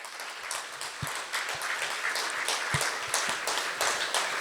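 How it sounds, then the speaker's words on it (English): Sustained audience applause fills a gala dinner hall at the European Centre of Judaism, a dense steady wash of many hands clapping that holds at an even level throughout. "he deserves another round of applause"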